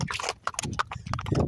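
Horse hooves clip-clop on the ground during a ride at the pyramids in Cairo, a close, loud series of quick, uneven clopping beats.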